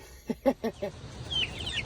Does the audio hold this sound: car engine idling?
no